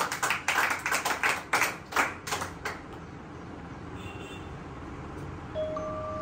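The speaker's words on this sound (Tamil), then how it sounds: "கைத்தட்டி ஆண்டவரை மகிமைப்படுத்தும்" Church congregation claps hands in unison, about a dozen sharp rhythmic beats over two and a half seconds before stopping, leaving a quiet room with a faint steady tone.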